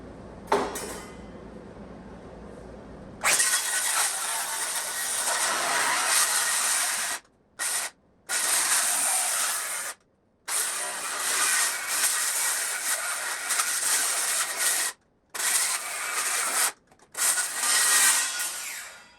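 Pallet boards being broken down with a pallet buster: harsh, loud scraping and grinding of wood that runs in long stretches, broken by several short pauses, with no talking.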